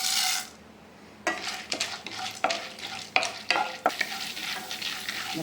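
Chana dal sizzles in hot oil for brinjal chutney while a spoon stirs and scrapes the pan in short, repeated strokes, close and fairly quiet.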